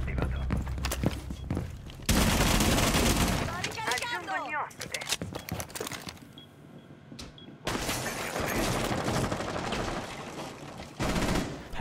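Gunfire in the PC game Rainbow Six Siege during ranked play, with bursts of automatic fire, short gaps and a few footsteps, and someone talking excitedly over the action.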